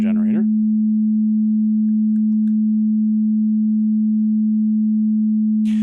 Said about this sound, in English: we're going to turn our sine wave back up, and we'll unmute it.